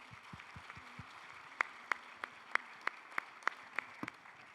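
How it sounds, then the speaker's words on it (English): A handful of people at a plenary session on climate finance for small businesses clap for the panelists, producing sparse, sharp claps that pick up into a thin, uneven patter before trailing off. "a big applause to our panelists"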